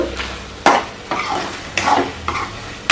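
Ginger paste fries in a pan for liver curry, a loud sizzle punctuated by four or five sharp scraping strokes of a spoon stirring at a steady rhythm, close and unaccompanied.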